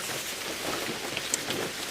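Rain begins falling in a forest, a soft steady patter of drops with a few sharper individual splashes standing out, fairly faint and with no voices.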